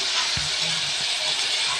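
Onions frying in a pan with turmeric, a steady soft sizzle and hiss with a faint clink or two, close by and without talk.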